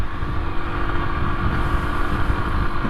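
Rieju Marathon MRT125LC Pro SM 125cc motorcycle engine running at low revs during break-in, a steady, close, buzzing drone with even loudness throughout.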